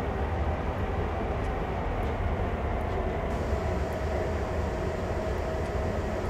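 A locomotive rolls along in Train Sim World 2020, a steady dense rumble of rail and engine noise holding constant and fairly loud across the whole stretch, with no voices.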